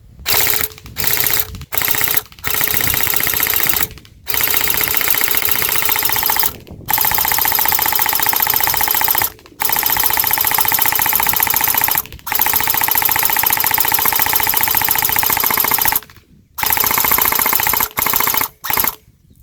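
An S&T PPSh-41 airsoft submachine gun with a drum magazine fires long sustained full-auto bursts at an outdoor range, with a steady mechanical rattle broken by short pauses, loud and close to the shooter with no talking.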